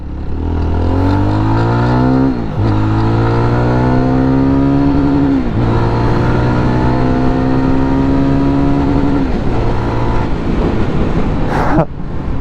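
A Jawa 42 FJ motorcycle engine is ridden over a very bad road. The loud, close exhaust note rises through the gears in repeated revving sweeps, and the climbs are broken by brief gear shifts.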